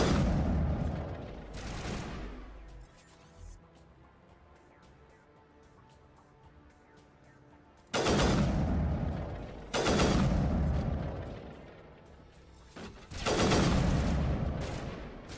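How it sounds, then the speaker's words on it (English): Gunfire in the Mass Effect video game comes in loud, close bursts of rapid shots separated by quieter gaps, with several heavy volleys clustered toward the end. "Yes, you're still shooting, so there's still somebody over there."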